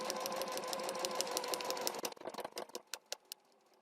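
A home sewing machine stitches along a marked line for foundation paper piecing, whirring steadily up close before slowing into a handful of separate, distinct stitch ticks.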